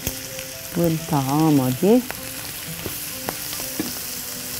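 Shrimp for a bacon and honey dish hit a hot pan and sizzle steadily, a soft continuous frying hiss that carries on under and after a woman's brief speech.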